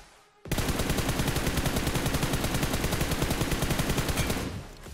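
Rapid automatic gunfire in PUBG rattles out in one long, loud continuous burst of evenly spaced shots after a brief quiet start, then cuts off near the end.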